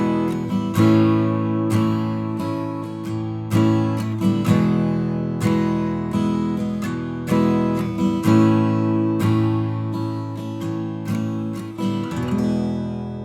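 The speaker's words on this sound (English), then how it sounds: "So the first degree is major, and the fourth has to be major too." Chord progression built on a major first-degree chord and a major fourth-degree chord, in a lesson on film-music harmony, played as repeated strummed or struck chords in a steady pulse, full and close, with no voice.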